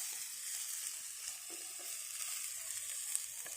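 Ridge gourd peel sizzles steadily in a hot pan with oil, a soft continuous crackle and hiss with a few faint stirring taps, close and without talk.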